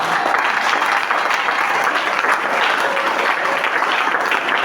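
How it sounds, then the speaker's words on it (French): A church congregation applauding during a worship service, steady dense clapping that fills the whole stretch, loud and close with no pause. "Est-ce que quelqu'un peut acclamer?"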